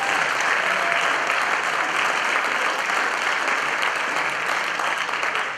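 Audience applause fills a sports banquet hall, a steady, dense wash of many hands clapping at close range, sustained evenly throughout with no speech over it.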